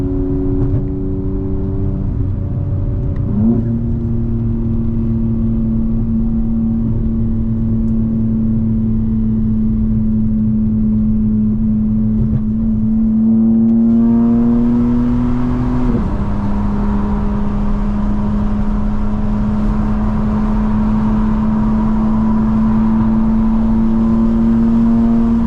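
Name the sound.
2025 BMW M4 Competition accelerating, full exhaust note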